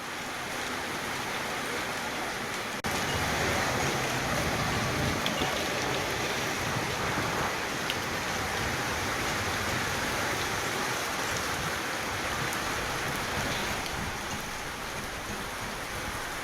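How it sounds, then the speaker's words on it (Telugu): Steady rain falls without a break across Komaram Bheem district in Telangana, an even broadband hiss of drops on surfaces that stays dense and unchanging throughout, growing slightly louder after the first few seconds, with no voices. "ఉదయం నుంచి వర్షం కురుస్తోంది"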